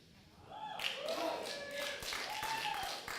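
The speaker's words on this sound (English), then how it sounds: "200 people and 4 people clap" A handful of audience members at a stand-up comedy show give sparse, scattered claps, mixed with murmuring voices and a few sharp taps, moderately near and fairly quiet.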